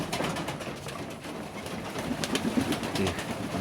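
Soft pigeon cooing in short repeated calls over a noisy, rustling background during an evening feeding in frost at -10°C, fairly faint and nearby.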